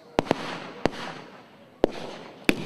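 Battle reenactment of the WW1 ANZAC landing at Gallipoli, with rifle, machine gun and artillery fire heard as five sharp, isolated reports spaced irregularly over a low background rumble, fairly distant.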